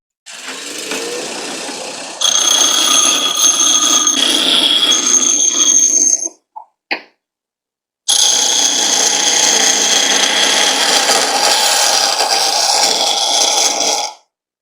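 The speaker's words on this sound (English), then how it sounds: "This is a adjustable speed grinder. I like to grind a little slower" An adjustable speed grinder set to 1800 works steel during a wheelbarrow repair, giving a loud, steady grinding whine in two long runs split by a short pause with a few brief taps.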